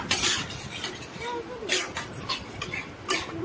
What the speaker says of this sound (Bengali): তার মধ্যে এবারে আমি ফেটানো টক দইটাকে অ্যাড করে দিচ্ছি।